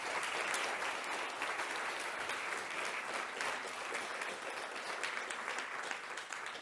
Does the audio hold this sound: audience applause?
yes